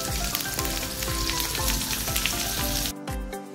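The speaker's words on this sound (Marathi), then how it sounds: "इथे मीडियम गॅसवरती बांगडे तळायला 4 ते 5 मिनिटं झालेली आहेत" Stuffed masala mackerel fries in a pan over medium gas with a loud, dense crackling sizzle and bubbling oil, continuous and close, easing slightly near the end.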